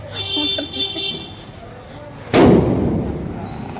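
A single loud, sharp Diwali firecracker blast bursts out partway through, leaving a noisy decaying rumble, after a stretch of background voices and scattered festive noise.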